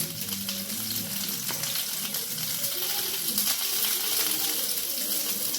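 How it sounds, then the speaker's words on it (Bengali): Chicken pieces lightly frying in a pan for chicken kebab, a steady, close, dense sizzle that holds at an even level throughout without pause. "একইভাবে আবার হালকা করে ভেজে নিচ্ছি চিকেনগুলো"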